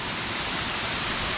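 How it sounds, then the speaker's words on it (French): Kuang Si waterfall near Luang Prabang, Laos, heard from above the falls: a loud, steady roar of rushing water that stays constant throughout. "au-dessus de la cascade"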